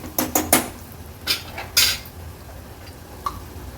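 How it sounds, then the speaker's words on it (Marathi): Turmeric and masala sautéed in oil in a pan, heard as a handful of metallic scraping and clinking strokes of a spatula against the pan over a faint background sizzle. "हळद आणि मसाला तेलावर छान असा परतून घ्यायचा आहे।"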